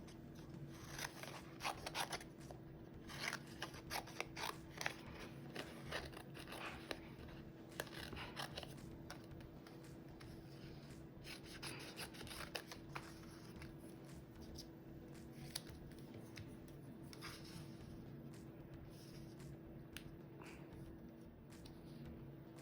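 Scissors snipping small pieces of paper for a collage, faint intermittent cuts and rustles scattered over a quiet room with a steady low hum, no speech.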